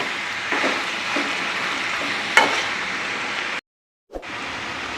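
Duck meat fries in a pan for a village-style roast, giving a steady close sizzle with a few stirring scrapes and one sharp clink before a brief dropout and return of the frying.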